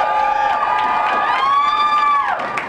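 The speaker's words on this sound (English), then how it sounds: "A crowd of more than 100 marchers" A crowd of more than 100 marchers cheers and whoops outside a courthouse, a loud, sustained wash of voices and shouts rising and falling steadily throughout.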